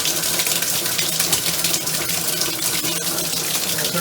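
Water runs from a tap in a steady, loud, close rushing stream with an even hiss throughout and no breaks.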